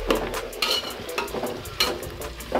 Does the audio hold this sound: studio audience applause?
no